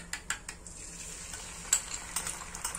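An egg sizzles and fries in a hot frying pan, a soft continuous crackle punctuated by several sharp scraping or tapping hits of a utensil against the pan.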